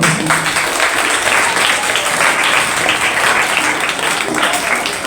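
Audience applause for a speaker at a debate competition, a steady dense wash of many hands clapping at full volume, close and continuous without a pause.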